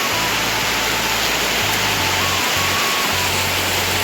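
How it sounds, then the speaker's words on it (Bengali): Heavy rain pours down outside a village home, a dense, loud, steady hiss, with a low droning hum underneath and no speech. "তো বাইরে হচ্ছে প্রচণ্ড ধরনের বৃষ্টি দেখো"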